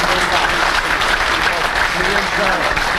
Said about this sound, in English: a round of applause for Don Diffendorf Jr. and Don Diffendorf